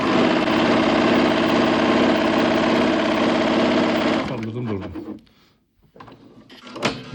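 A Pfaff Admire Air 7000 overlock machine runs a chain stitch, a loud steady mechanical whirr for about four seconds that then stops, leaving clicks and handling noises.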